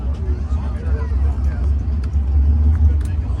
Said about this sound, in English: A lot of cars here today.